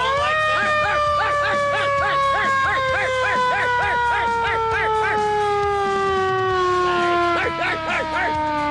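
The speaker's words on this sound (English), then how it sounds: "I wonder if the siren works on it." A fire truck siren wails steadily at close range, its rising and falling pitch sweeping in long repeated cycles, loud and continuous at a hearse show, with faint background noise beneath.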